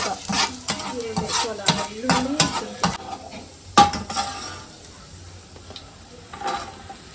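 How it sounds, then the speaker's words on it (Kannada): Garlic in butter in a pan, stirred with a utensil: quick scraping and clinking strokes over a light sizzle, busier early on and then thinning into sparse taps and a soft background hiss. "ಬೆಣ್ಣೆ ಹಾಕಿ ಬೆಣ್ಣೆಗೆ ಬೆಳ್ಳುಳ್ಳಿ ಹಾಕಿದ್ದಾಳೆ."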